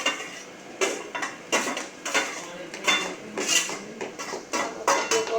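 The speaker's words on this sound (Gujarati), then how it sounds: "આપણે અંદર કોબી નાખી દઈશું." Cabbage is tipped into a pan and stirred, giving repeated close clinks and scrapes of a metal spoon against the pan in an irregular rhythm, fairly quiet, with no talking.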